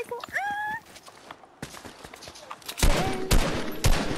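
Assault rifle gunfire in a shooter video game, with rapid cracking bursts that thicken into a dense, loud volley near the end, mixed with other game sounds and voices.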